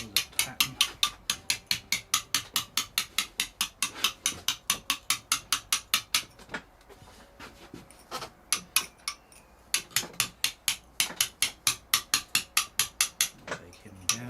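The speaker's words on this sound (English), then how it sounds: "A bit harder blows on the chisel." A hammer strikes a chisel carving Storeton stone in a fast, even run of sharp close taps, pausing briefly midway before resuming the same brisk rhythm.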